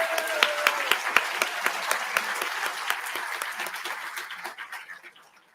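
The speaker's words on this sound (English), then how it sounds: "So a round of applause for our judges." A crowd at a state contest awards ceremony applauds volunteer judges, steady dense clapping that fades out toward the end.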